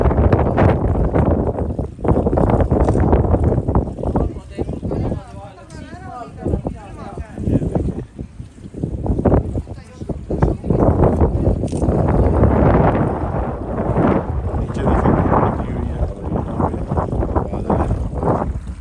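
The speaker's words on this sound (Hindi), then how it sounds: "ठंडी हवा चल रही है।" Cold wind on Ben Nevis near Fort William, Scotland, buffets the microphone in loud, gusting rumbles that rise and fall, while people talk over it.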